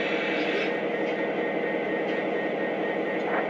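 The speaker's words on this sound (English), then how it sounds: "We're able to see the Southern Pacific's excursion train that they're running with the Union Pacific." Lionel model excursion train, styled as a Southern Pacific excursion run, rolling along the track with a steady, even mechanical hum and rumble that holds without pause.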